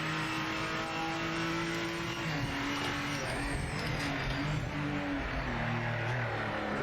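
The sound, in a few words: R34 race car engine on track in Project Motor Racing video game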